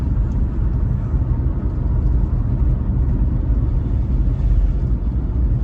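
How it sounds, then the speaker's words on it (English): Steady low road rumble and tyre noise inside a Mazda 6 sedan cruising in sixth gear, a continuous even drone with faint whir and no talking. "Just road noise."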